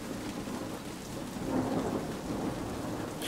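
A rainstorm in the video game Plague M.D.: a constant heavy hiss of falling rain with a low, rolling thunder rumble swelling through the middle, no voices present.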